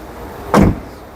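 A BAIC BJ40 Plus SUV door opens with one short, solid mechanical clunk near the microphone, rising out of quiet room tone and fading fast, with no speech.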